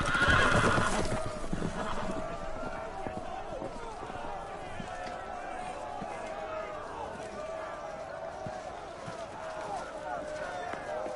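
Horses neigh and whinny loudly at the start of a video game scene, then hooves clip-clop and run steadily throughout as the herd breaks loose, with game voices talking over the commotion.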